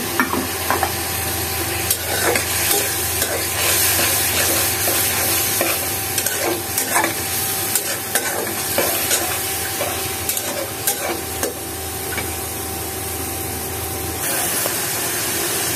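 Small shrimp sautéing with vegetables in a pan, a steady loud sizzle with repeated stirring scrapes running throughout, no voices.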